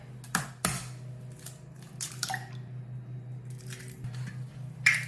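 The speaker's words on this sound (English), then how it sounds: "Next, get 1 large egg." Egg cracked into milk in a bowl for zucchini cheddar muffin batter, a couple of sharp taps and cracks followed by soft wet squishes and drips, close and quiet against a faint background hum.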